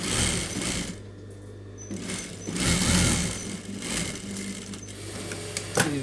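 A sewing machine stitches piping onto a blouse, its steady mechanical whirr running in bursts with short pauses between runs, close and fairly loud.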